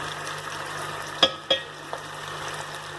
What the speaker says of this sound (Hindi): प्याज़ों को हम लाइट ब्राउन करेंगे, इनकी ग्रेवी बनाएंगे